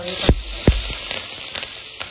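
Cumin seeds, green chillies and curry leaves hit hot oil with a loud, steady sizzle and crackle, with a couple of sharp pops near the start and a continuous hiss throughout, close up.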